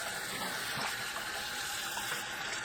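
Tap water runs steadily into a sink while garlic scapes are washed, a continuous close, bright rush of flowing water with no voices.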